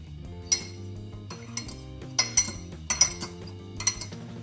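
A spoon stirs milk into chocolate mug cake batter, clinking sharply against the mug in a few irregular bursts over background music.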